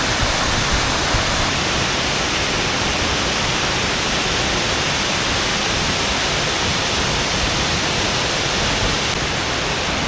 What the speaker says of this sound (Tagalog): So ito nga pala yung hindi na Hidden Falls.